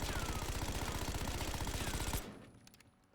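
Rapid automatic gunfire in Black Ops 6 rattles in a fast, even stream of shots for about two seconds, then stops abruptly, leaving a few faint clicks.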